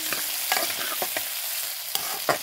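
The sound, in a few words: stirring potatoes frying in a pan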